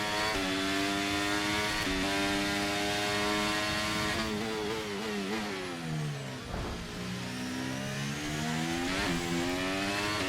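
An F1 23 race car engine in a wet Austria race screams close and loud, revving high, dipping as the driver lifts and shifts, then climbing again in steady rising tones.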